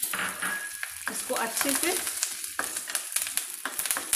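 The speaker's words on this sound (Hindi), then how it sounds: "मैं डाल रही हूँ चने की दाल, और ये थोड़ा कड़ी पत्ता लिया है मैंने, 2 लाल मिर्च ली है मैंने" Chana dal, curry leaves and two dried red chilies sizzle and crackle steadily in hot oil in a tempering pan for an Indian tadka, with stirring and someone speaking briefly over the frying.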